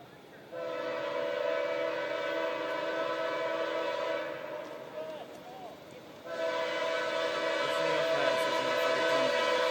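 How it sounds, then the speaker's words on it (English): A freight train passes close by, sounding a long, loud sustained horn in two blasts separated by a brief dip, over the rumble of the rail cars. "this is a train coming at me right now"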